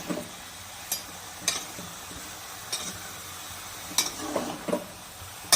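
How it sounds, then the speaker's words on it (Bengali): Pumpkin and mixed vegetables being stirred together in a pan for a prawn dish with Malabar spinach: soft scraping strokes and occasional sharp utensil clicks over a faint, steady sizzle, with no talking. "আমি এবার অল্প এইগুলো মিশিয়ে নিব একসাথে, সবজিগুলোকে।"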